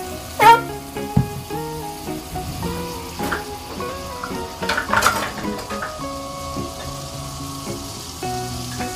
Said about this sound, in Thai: กระทะร้อนแล้วก็ใส่น้ำมันลงไปนะคะ